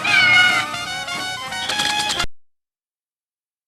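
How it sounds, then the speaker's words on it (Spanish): A cat lets out a drawn-out, loud meow, close and bright, stretching for about two seconds before cutting off abruptly into silence. "Es hora de que conozcas mejor a estos adorables felinos"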